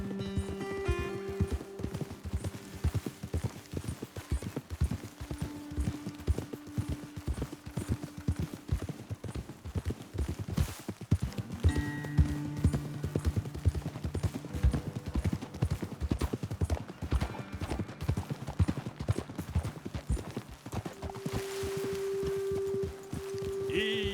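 Horses walking in Red Dead Redemption 2, their hooves clip-clopping in a steady, continuous rhythm close by, with game music tones and occasional voices underneath.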